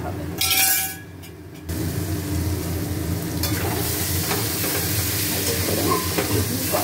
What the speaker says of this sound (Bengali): সব একসঙ্গে দিয়ে দিয়েছি এবার এইটা ভালো করে কষা হবে